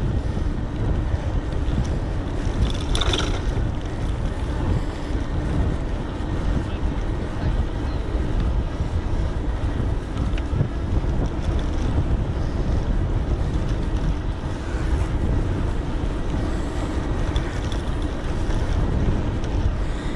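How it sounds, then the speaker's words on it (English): Strong wind roars continuously across the microphone during an electric bike ride between Milnthorpe and Grange-over-Sands, a loud buffeting rush with a brief gust, no voices heard. "gone very windy all of a sudden down here."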